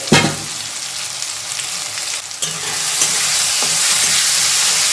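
Grated ginger and potato curry ingredients fry in a pan with a loud, continuous close sizzle, a few sharp scrapes and stirring knocks, and the hiss swelling toward the end, no talking.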